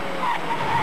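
A car brakes hard with ABS during a driver safety training exercise, tires briefly squealing and skidding in a short, sharp burst.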